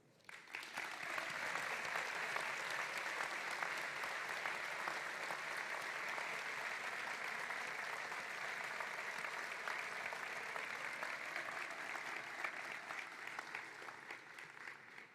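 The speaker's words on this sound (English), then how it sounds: "join me in a big round of applause to the memory of one" A graduation ceremony crowd standing and applauding in memory of a classmate, sustained even clapping that swells in and holds steady for over ten seconds before easing.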